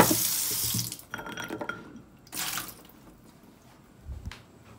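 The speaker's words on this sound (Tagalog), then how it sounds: "Hugasan lang natin." Tap water runs into a kitchen sink while rock sugar is rinsed, with a close splashing gush that stops and starts in short bursts separated by quieter gaps.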